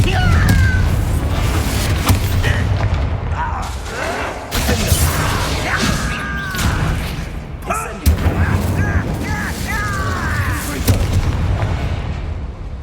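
Confringo spell blasts in Hogwarts Legacy, loud repeated booming impacts and crackling bursts layered over dense action noise and music, with a voice speaking over parts.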